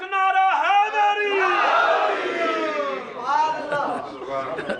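A large crowd chants the slogan Naara-e-Haidari together at a religious gathering, loud massed voices rising and sustaining in a continuous, drawn-out cry.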